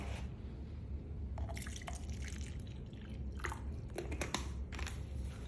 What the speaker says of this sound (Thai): การเติมน้ำในกระบอกให้ความชื้นเลยนะครับ